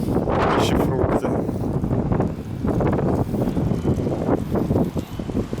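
Strong gusty wind at the seaside in Alanya on a March evening, a continuous loud roar of rushing air and microphone buffeting that surges and dips in uneven gusts throughout, close and unbroken.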